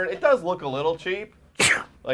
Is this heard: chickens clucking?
no